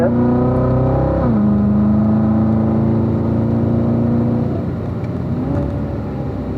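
A car on a racing circuit accelerates out of a corner with a loud, steady engine drone that shifts pitch upward and then eases off, close and without speech.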